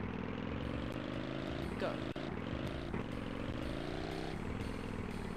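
Quad bike engine in the video game Tomb Raider III, a continuous harmonic drone that climbs and dips in pitch as it revs, with a short spoken word over it.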